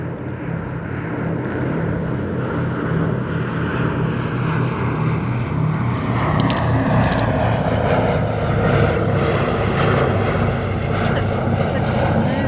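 A World War II B-17 bomber drones in flight, a steady loud engine roar from inside the aircraft, with people talking over it throughout.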